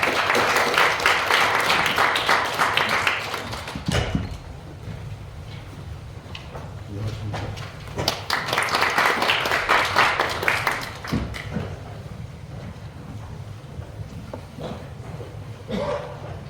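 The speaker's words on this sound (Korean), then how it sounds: "큰 박수로 교수님을 모셔서 귀한 말씀 듣도록 하겠습니다" A lecture audience at a special talk gives the arriving professor two swells of applause, each lasting a few seconds, with quieter room sounds in between.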